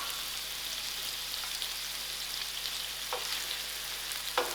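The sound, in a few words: onion frying with bay leaf, cinnamon, garlic, green chilies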